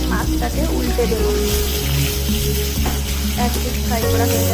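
Hilsa fish pieces frying in mustard oil are flipped in the pan, giving a continuous close sizzle with small stirring scrapes over background music.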